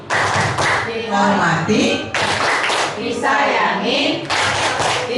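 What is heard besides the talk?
rhythmic clapping chant 'tepuk guru' by teachers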